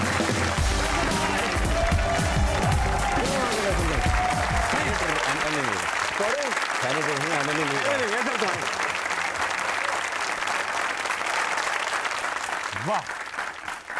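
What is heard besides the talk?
studio audience applause and clapping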